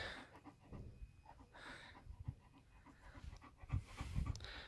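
A German Shepherd pants softly and rhythmically at close range at dinner time, with faint breathing, small scuffs and sniffs, and no talking.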